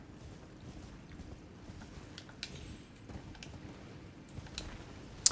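Horse hooves on the move in the Elden Ring video game, soft muffled thuds in a steady quiet rhythm under low background rumble, with a few sharper clicks and no talk.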